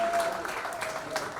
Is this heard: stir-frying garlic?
no